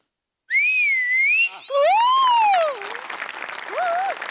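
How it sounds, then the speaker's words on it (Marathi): Loud, close whistling by a woman on a comedy stage show, in long sliding tones that rise and fall like a tune, with a noisier crowd-like background toward the end. "पुरुष मायमिंग करतो, बाई खरी शिट्टी वाजवते"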